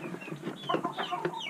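Hens in a backyard coop cluck and murmur in quick, overlapping bursts during egg collection, close and fairly steady throughout the short moment, with no talking.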